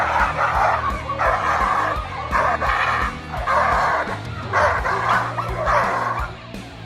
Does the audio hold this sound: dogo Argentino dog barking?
yes